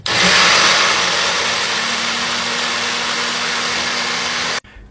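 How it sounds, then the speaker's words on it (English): A kitchen blender blends chipotle sauce ingredients for a crock pot chicken meal prep, giving a loud, steady motor whir that holds for over four seconds and then cuts off abruptly. "and then we're going to blend it up."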